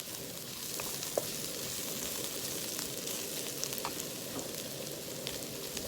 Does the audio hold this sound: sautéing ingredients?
yes